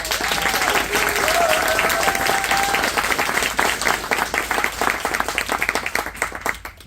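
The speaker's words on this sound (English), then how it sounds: "Can we have a last round of applause?" An audience at a bicycle coalition annual member meeting applauds steadily, a dense wash of clapping that thins out toward the end, with a few cheers early on.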